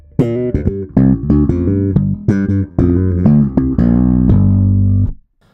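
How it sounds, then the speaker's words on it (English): Slap bass played through a Markbass S.T.U. amp with the tube and solid-state sides set even and the horn off; punchy percussive plucked notes in a quick riff, loud and close, ringing out on a final sustained note. "Let's play a slap sound with both the tube and the solid state side set even."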